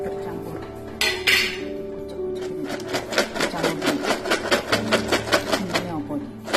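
Porang chips being stirred with shallot seasoning in a pan, a steady run of rhythmic metallic clinks and scrapes that starts after a brief rustle and continues close up.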